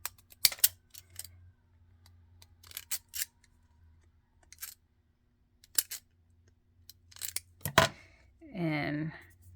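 Fancy scissors snipping paper bread tabs, a series of short crisp cuts spaced across the clip over a quiet background, with a voice speaking briefly near the end.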